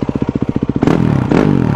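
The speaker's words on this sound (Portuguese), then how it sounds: "Acelera a moto, vê se não sai fumaça." A Yamaha WR 250F trail motorcycle engine, checked for oil burning, idles with a steady close-up rhythmic thump, then is revved hard in two loud surges of rising engine roar.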